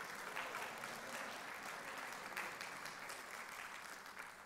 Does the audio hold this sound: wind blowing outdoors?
no